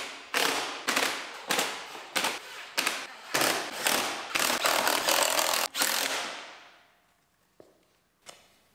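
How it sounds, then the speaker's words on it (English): A ratchet bolts in the lower valance on a 2019 Ford Explorer: about a dozen loud, close bursts of rapid clicking in a steady rhythm, the last long run trailing off, then a couple of isolated clicks. "Bolt it in."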